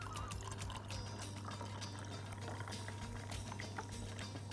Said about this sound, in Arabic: وهبتدي احط عليهم مياه غازيه بيضه